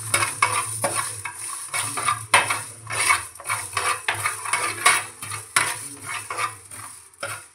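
Coriander seeds dry-roasting in a pan over a low flame for an Andhra fish curry, with a rhythmic run of scraping and rattling stirs against the metal and a faint sizzle beneath, close and steady.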